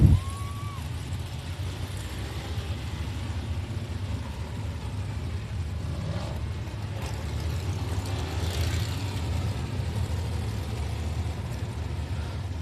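Sprint cars at Texana Raceway Park rumble steadily in the distance, a continuous low engine drone with no clear revving peaks, far off and muffled throughout.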